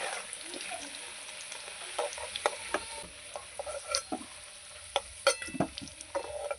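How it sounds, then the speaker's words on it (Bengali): Potatoes fry in a pan and are stirred, a quiet bed of sizzling broken by irregular scraping and clinking strokes from the spoon. "আলুটা লাল লাল করে ভেজে নেব"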